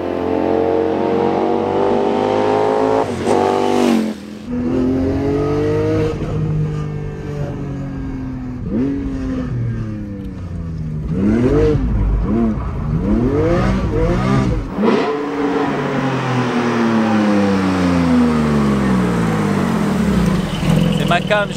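A Golf 8 R at full power on the autobahn, its engine pulling hard through repeated rising sweeps and gear changes, loud and close from inside the cabin, with someone talking over it.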